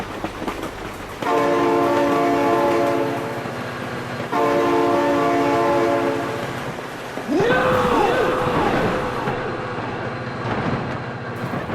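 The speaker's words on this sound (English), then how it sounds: "Oh my god, train!" A train rumbles past in the BeamNG video game, sounding two long loud horn blasts, followed by a screeching, wavering whine and continued heavy rolling noise.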